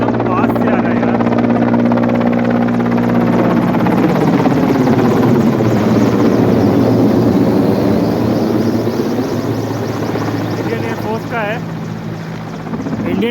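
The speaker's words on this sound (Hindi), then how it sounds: "इंडियन एयरफोर्स का ये हेलीकॉप्टर है," An Indian Air Force military helicopter passes close overhead at Kedarnath, its loud rotor thumping and engine whine steady throughout, with voices talking faintly underneath.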